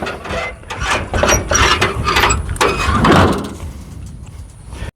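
A seed tender that has just loaded wheat into a no-till drill is closed up, with a run of loud close mechanical clanks, ratcheting clicks and scraping that fade out near the end, no talk.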